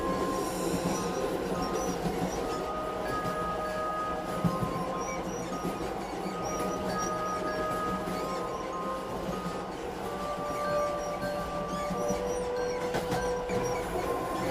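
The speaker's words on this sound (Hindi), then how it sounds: "ट्रेन चलने लगती है" A passenger train pulls away, a steady rumble of rolling carriages with rail clatter and thin wheel squeals running throughout at an even, fairly loud level, with no voices.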